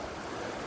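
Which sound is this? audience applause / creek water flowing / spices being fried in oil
creek water flowing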